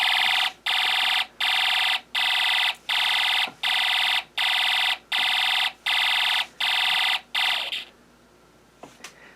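An electronic alarm from a Snap Circuits music IC, triggered by a motor circuit, beeps in about ten evenly spaced loud bursts, then stops and leaves faint clicks and low room noise.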